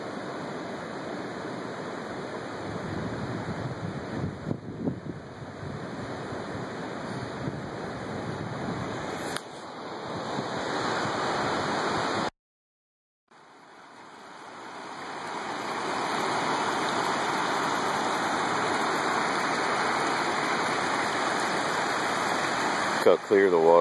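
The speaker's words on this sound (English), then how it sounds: "Natural spring." Water from a natural spring in a canyon flows in a steady, close rushing wash that fills the whole stretch, briefly cutting out midway before swelling back to a constant gush.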